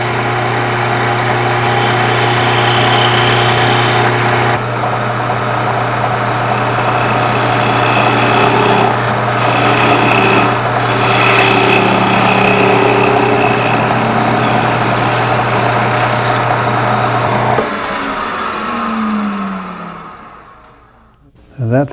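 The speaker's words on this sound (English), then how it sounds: "Now I'll use my parting tool, my skew parting tool," A skew parting tool undercuts wood spinning on a lathe, giving a steady high whir and hum that runs loud for most of the stretch and then winds down near the end.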